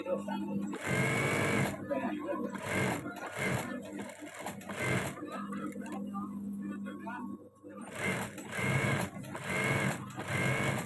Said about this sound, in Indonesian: Sekarang kita jahit yang bagian opennya. Kita kasih kain.